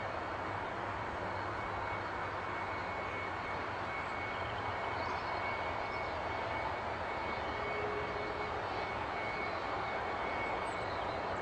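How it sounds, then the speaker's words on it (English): A plane's left engine keeps running on the ground after a bird strike, giving a steady, continuous broadband drone with a faint whine, even and unbroken throughout at moderate distance. "just confirm you do realize the left engine is still running"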